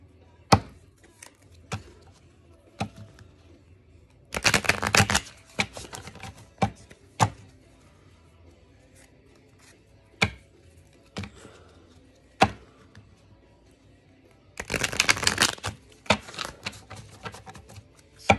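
Twin flame oracle cards being shuffled, two longer riffling bursts plus scattered single sharp card taps and slaps on a surface, close and otherwise quiet.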